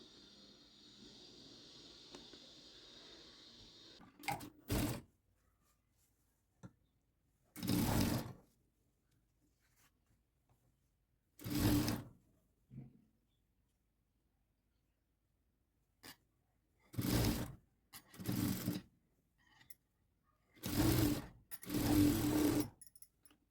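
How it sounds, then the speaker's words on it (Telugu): A sewing machine stitches the sleeve of a blouse with a puffed, ruffled design, running in short separate bursts of a few seconds each with quiet pauses between them, close and clear, with no talk. "సేమ్ భుజం నుంచి ఇటు సైడ్ నుంచి ఇటు సైడే కుడుతున్నాను, అటు సైడ్ నుంచి అటు సైడే"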